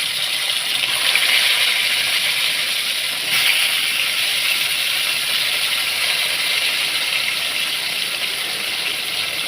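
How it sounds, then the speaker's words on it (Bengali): Fish frying one by one in hot oil in a home kitchen, a loud, steady, close sizzling hiss that crackles continuously throughout. "তো দেখো তেলটা গরম হয়ে এসে গেছে, তো ওখানে এক এক করে মাছগুলো দিয়ে দিলাম"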